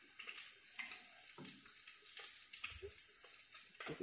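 Chocolate-stuffed French toast fries in an oil bath, with a busy crackling sizzle, small bubbling pops and soft scraping as the slices are settled, close and continuous.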